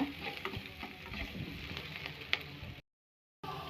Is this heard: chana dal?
yes